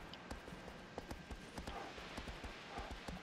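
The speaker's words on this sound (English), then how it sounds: "I can even hear my horse snorting from all the running." A horse gallops in the Shadow of the Colossus video game, its hoofbeats thudding in a quick steady rhythm close by, with faint snorting breaths mixed in and no talk.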